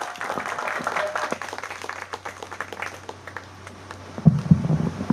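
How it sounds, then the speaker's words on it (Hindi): An audience applauds after a stage play performance, steady scattered clapping with a faint crowd murmur underneath, rising into a few louder claps near the end. "जोरदार तालियां"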